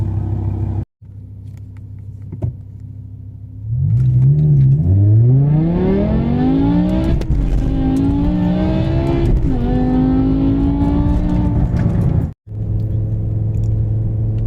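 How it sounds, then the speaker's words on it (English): A BMW M5 idles, then its engine revs hard and accelerates through rising gears in a launch, loud and close, before dropping back to a low idle. "Looks like the car did not like being launched."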